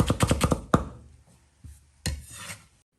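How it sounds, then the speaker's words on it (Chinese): A knife slicing an onion into thin strips on a board, a quick run of rapid crisp cuts followed by a few isolated chops and scrapes, close and clear with no talking. "洋葱切成细丝"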